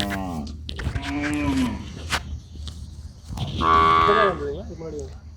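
At a bustling cattle market in Kannapuram, a Kangayam Karampasu cow lets out two loud, drawn-out moos close by, with a short pause between them.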